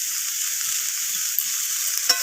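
Ginger paste and salt sizzle steadily in a hot pan, with soft scraping from a spoon stirring now and then and one brief clink near the end, no voices.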